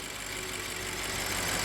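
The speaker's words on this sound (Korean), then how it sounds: "자, 이제 후드 열고 엔진 소리 담아 드리겠습니다." A 2014 BMW 750Li xDrive idles with the hood open, a low, steady engine hum heard alone, faint and even throughout.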